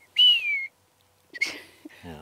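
A person whistles in imitation of a marmot's alarm call: one clear, high, sustained whistle that slides slightly downward, then a shorter breathy whistle after a pause, followed by a brief bit of talk.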